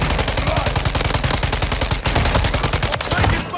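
Rapid automatic fire from a Taq rifle, a fast-firing Scar-style weapon in Modern Warfare 3, rattles in a steady, loud, close burst with no pause for nearly four seconds.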